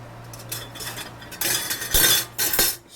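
A spoon scoops a boiled egg out for instant shoyu tonkotsu ramen, making several close metallic clinks and scrapes in quick irregular bursts over a faint low hum.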